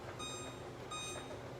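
An oven timer being set while fish and chips bake gives two short bursts of thin, high electronic beeps, fairly faint and about a second apart, over kitchen background noise with no talking.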